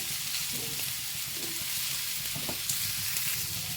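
Ingredients for guava chutney frying in a pan, a steady close sizzle with soft spoon stirring scrapes scattered through, no talking.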